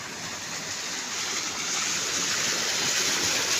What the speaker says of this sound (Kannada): ಈ ರೀತಿ ಚಾನಲ್ ನೀರು ಹರಿತಿರ್ತದೆ ಕಂಟಿನ್ಯೂಸ್ ಆಗಿದ್ದು.